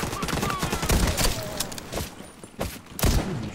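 Sniper rifle shots ring out in The Division 2 as several sharp loud cracks amid dense continuous gunfire and game effects.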